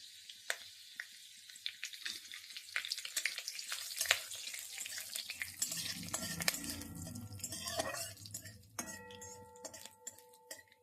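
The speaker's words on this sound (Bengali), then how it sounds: "সরষে আর গোটা জিরে তেলের মধ্যে দিয়ে দিচ্ছি দিয়ে দিচ্ছি কারি পাতা" Mustard seeds, whole cumin and curry leaves crackle and sizzle in hot oil, with scattered sharp pops and a steady frying hiss, plus a few light clinks of a pan.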